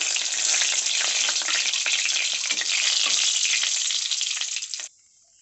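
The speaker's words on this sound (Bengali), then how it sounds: "ওই তেলে এবার গোটা জিরে ফোড়ন দিয়ে দেব তেজপাতা শুকনো লঙ্কা" Whole cumin seeds, bay leaf and dried chillies crackle in hot oil after potatoes were fried in it, a loud, dense, close sizzle that holds steady for about five seconds, then drops off abruptly.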